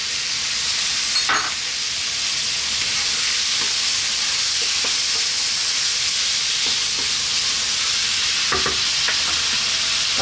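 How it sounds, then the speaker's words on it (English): Fresh tomato going into a hot pan of frying spices for a chicken chickpea curry, giving a steady loud sizzle and hiss with a few stirring scrapes and clunks, no talking. "now we're going to add that fresh tomato in."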